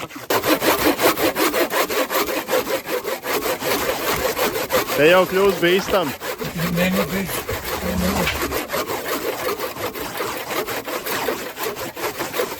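Steady, continuous sawing through wood, a harsh rasping drone that runs nearly throughout, with a brief voice speaking partway through.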